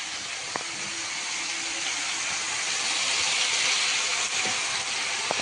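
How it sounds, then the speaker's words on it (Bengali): Fish frying in mustard oil, a dense, loud, continuous hiss of hot oil with a couple of faint clicks and no voices. "এদিকে মাছটাও ভাজা দিয়েছি"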